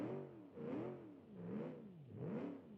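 A front-wheel-drive V8 muscle car engine in the BeamNG driving game revs up and down three times in steady waves, a loud, close, rising and falling engine tone with no talk over it.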